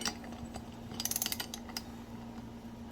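Metal wrench clicking in short ratcheting bursts while snugging a spark plug on a McCulloch Super Pro 125 chainsaw, close and fairly quiet over a steady low hum.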